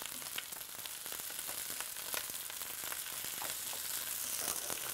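Fried rice with egg, sesame oil and green onion sizzles in a hot pan while being stirred, a steady close crackling hiss with scraping stirs running throughout.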